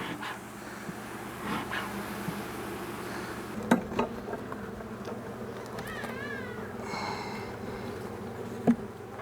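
Honeybees buzzing in an open hive while being smoked, a steady close droning hum with occasional faint clinks and brief higher whines from individual bees.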